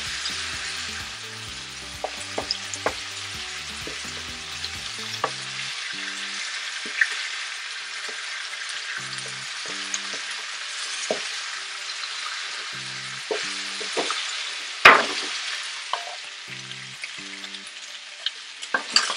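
Pork spare ribs fry in a pan with a steady, bright sizzle throughout, broken by occasional sharp crackles and pops, with faint low tonal sounds in the background early on.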